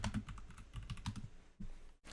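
Keys tapped on a computer keyboard in a quick, uneven burst of clicks, close and fairly quiet, with a short pause near the end and no one talking.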